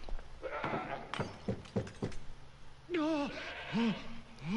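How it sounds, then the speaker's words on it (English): A goat in Assassin's Creed Odyssey bleats behind a door, two or three wavering cries after scattered knocks and thuds, faint and indoors. "There's a goat in there?"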